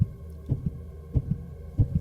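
Heartbeat sound effect in a horror story, a low thumping double beat repeating three times at a steady, slightly quick pace, muffled and heavy against a faint hum.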